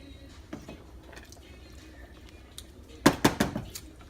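A spoon stirs sugar into tomato sauce in a pot for meatball and rigatoni sauce, with a brief cluster of close clinks and scrapes against the pot near the end after a quiet stretch.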